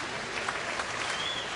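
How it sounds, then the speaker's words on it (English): A hockey arena crowd chants a player's name, a steady, distant wall of massed voices and applause-like roar that holds at an even level through the short moment. "Listen to the crowd."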